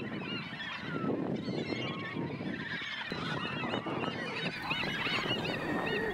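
A noisy flock of seagulls and pelicans calling and honking over one another in San Francisco Bay during herring fishing, a continuous chorus with steady background noise.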